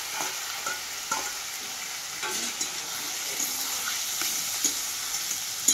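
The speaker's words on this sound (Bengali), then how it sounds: "টামটুমটাকে ভালোভাবে আমি ভাজবো।" Tamtum frying in a pan, a constant low sizzle broken by repeated scraping stirs and small clatters of the spatula, fairly quiet and close.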